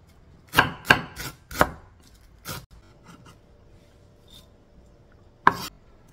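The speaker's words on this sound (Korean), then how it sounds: "만두 속에 들어갈 야채 썰어줍니다." A knife chopping vegetables for cabbage dumpling filling on a cutting board, a handful of sharp, close thuds in a quick cluster, then quiet and one final chop.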